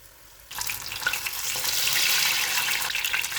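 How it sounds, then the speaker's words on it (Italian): Banana fritters go into hot oil and start frying. After a brief quiet moment, a loud, bright, crackling sizzle bursts in and holds steady close by, with scattered pops through it. "Ora iniziate a friggerli nell'olio caldo."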